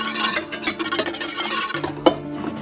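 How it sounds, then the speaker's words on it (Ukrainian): Sugar syrup being stirred constantly in a pot on the stove as it nears the boil, a steady scraping and clinking of spoon against the pot with a low hum beneath, close and continuous. "Постійно помішую."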